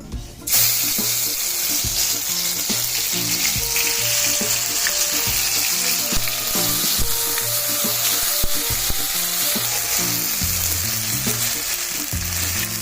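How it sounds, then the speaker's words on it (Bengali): Ginger garlic paste fries in hot oil for chicken curry, a loud close sizzle that bursts in suddenly and holds steady under background music, with no talking. "এবার আমি এখানে আদা রসুন বাটা দিয়ে দিব।"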